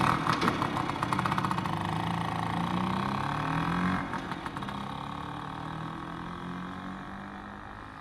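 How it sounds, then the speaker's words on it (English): In The Flower Collectors video game, a noisy vehicle engine with a tampered exhaust rumbles and burbles steadily, fairly loud and near, with a harsh rattling stretch early on that eases into a lower drone. "Why are those things so noisy? Bet they fiddled with the exhaust."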